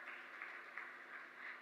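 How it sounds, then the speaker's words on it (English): Applause from a seminar audience in Muscat, Oman after a raffle prize winner is named: steady, dense clapping of moderate loudness holding evenly throughout, with no voices over it. "Give a loud round of applause."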